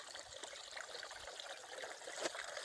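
Soft, continuous trickling and splashing of a small garden waterfall, quiet and steady throughout.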